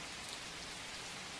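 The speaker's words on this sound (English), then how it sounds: "The rain's whisper follows" Gentle rain falls by night near a village, a soft, even hiss with no other sounds.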